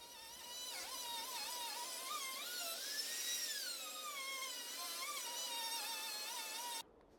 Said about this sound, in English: I'm probably being a little more aggressive here than I should be with the router